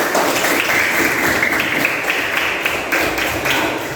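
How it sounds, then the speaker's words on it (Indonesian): Schoolchildren in a primary school classroom clap their hands together in a dense, steady burst of applause lasting several seconds, close and fairly loud. "Oke, kita tepuk tangan dulu."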